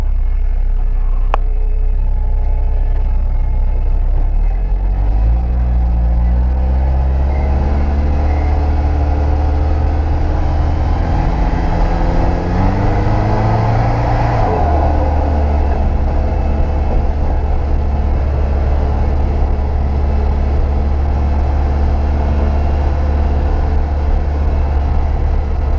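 A Commer van powered by a Saab 2.3 turbo engine with automatic gearbox, heard from inside while driving: a loud, continuous low engine drone rising and falling in pitch as it pulls away and shifts gears.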